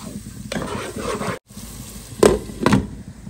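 Dried fish (shutki) is stirred and scraped in a hot pan with garlic, soft sizzling running throughout under a few louder spatula scrapes and clinks.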